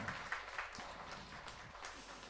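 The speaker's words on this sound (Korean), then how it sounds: "설교 감사하다고 박수 한번 치시죠" A church congregation claps after a Wednesday evening sermon, giving a faint, steady patter of scattered hands across a large room.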